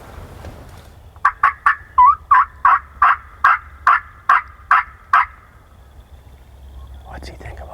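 A wild turkey tom gobbles in a rapid rhythmic burst of about ten loud sharp notes, fairly close, followed by quiet and a faint call at the end.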